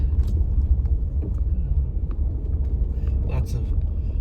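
A car engine rumbles low and steady as the vehicle rolls slowly along, with faint road noise and small knocks in the background.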